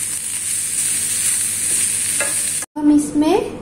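Corn kernels frying in two or three spoons of oil over a very low gas flame, a steady close sizzle with stirring scrapes, broken by a brief silence before louder stirring and sizzling resume.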